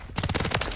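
Rapid burst of submachine gun fire from the WSP Swarm SMG in Modern Warfare 3, about six or seven quick loud shots in a tight rhythm lasting under a second.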